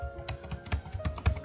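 Fingers type on a computer keyboard, a quick, uneven run of crisp key clicks and taps, close and fairly loud, with no voices.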